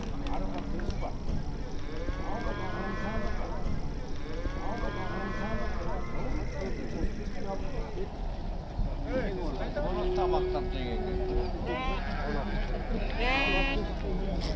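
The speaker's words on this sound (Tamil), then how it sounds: "இங்கெல்லாம் பார்த்தீங்கன்னா செம்பரி ஆடு இருக்குது. ஸோ ஷீப்பு அண்டு கோட்டு ரெண்டுமே வந்து விற்றுட்ருக்காங்க." Sheep and goats call out in a crowded Kyrgyzstan animal market, a few bleats rising over a dense, steady crowd murmur and nearby chatter.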